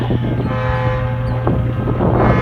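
Amtrak 80 passenger train approaching northbound in Selma, a steady low rumble and drone with a sustained horn-like tone layered over constant wind noise.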